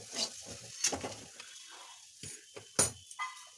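Flattened rice (chira) pulao being stirred in a pan: a few scattered scraping and rustling strokes with soft sizzle, separated by quiet gaps.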